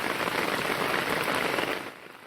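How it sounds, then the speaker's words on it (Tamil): Heavy rain pours down steadily in Srivaikuntam, Thoothukudi district, Tamil Nadu, a dense, unbroken hiss of drops hitting surfaces that stays loud throughout. "பலத்த மழை பெய்தது"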